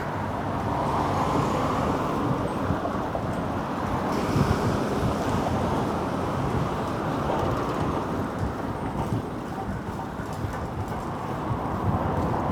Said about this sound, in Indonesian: Ini kalau lagi musim panas, anginnya kencang